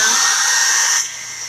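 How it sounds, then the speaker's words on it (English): A steady, loud whooshing blast of a hair dryer blowing up close, its whine dropping slightly near the end. "I'm going to hit this with the dryer."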